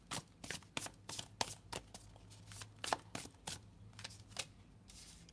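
Tarot cards pulled from a deck and laid out, with quick papery flicks and soft slaps in an irregular rhythm, close and clear, and no talking.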